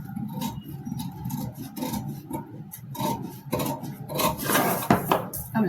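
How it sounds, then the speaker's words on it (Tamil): Cutting out the dart on a princess-cut blouse pattern makes a close, continuous rasping, snipping sound, steady and growing slightly busier toward the end. "அதாவது டாட்டை கட் பண்ணி எடுக்க போகிறோம்"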